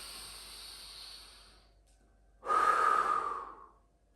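Deep breathing during a Pilates core exercise: a soft, drawn-out breath fades away, then after a pause comes a louder, forceful exhale lasting about a second, close to the microphone.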